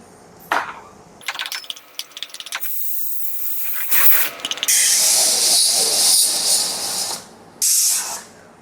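A pressure cooker on a kitchen stove lets out bursts of hissing steam and whistles, with several sharp releases followed by a long, loud, steady hiss near the microphone.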